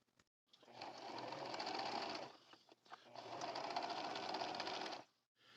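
A sewing machine runs in two bursts of rapid, even stitching, zigzagging along the edge of a fabric drawstring bag, with a short pause between runs and quiet at either end.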